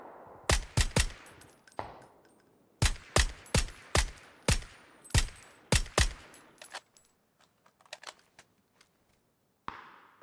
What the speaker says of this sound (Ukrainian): Але вже зрозумів, мабуть, з якоїсь сторони стріляють